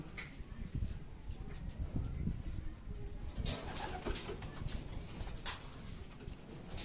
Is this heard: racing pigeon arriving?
yes